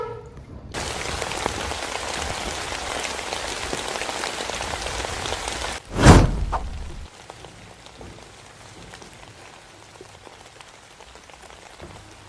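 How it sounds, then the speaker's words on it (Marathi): Steady heavy rain patters on a surface close by, a dense continuous hiss broken by one loud thump midway, after which the downpour continues more softly. "आणि पावसा चालू आहे"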